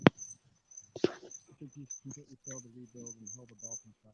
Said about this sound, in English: Is it me or does somebody sound like they have crickets in the background?